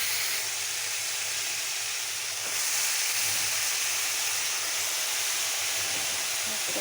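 Dried salted hilsa fish dropped into a spice paste frying in a pan, a loud, dense hiss of sizzling that swells partway through and holds steady, with a faint voice underneath.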